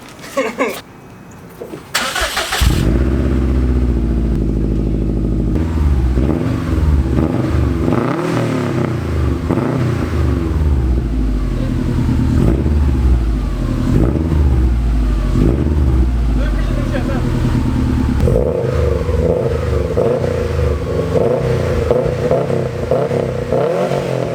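A 2011 Subaru STI with an Invidia exhaust starts up at night and runs loudly, a steady low engine rumble with some revving throughout, with people talking over it.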